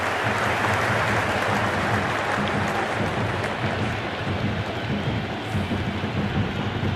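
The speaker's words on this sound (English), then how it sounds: "The crowd is electric right now." A packed cricket stadium crowd roars at an IPL match between RCB and GT in Bengaluru, a loud, dense, continuous wash of cheering with no break.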